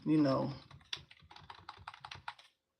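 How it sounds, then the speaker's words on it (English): A brief voice comes first, then arrow keys on a computer keyboard are tapped in a quick, uneven series of light clicks, close and clear, before stopping. "use your computer keyboard and use the arrow key up and down"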